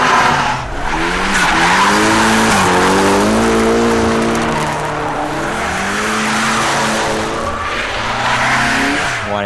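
A 1989 Nissan 240SX drifting, with loud, sustained tire squeal and skidding over a revving engine whose pitch rises and falls across the slide, close and continuous.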